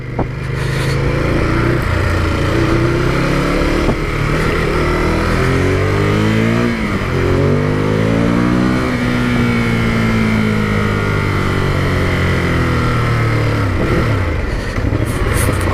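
A 2018 Ducati Monster 821 motorcycle engine revs loud and close while riding, its pitch climbing and dropping repeatedly through gear changes under steady wind roar.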